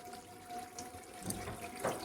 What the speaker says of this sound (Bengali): তা হালকা জল দিয়ে দিলাম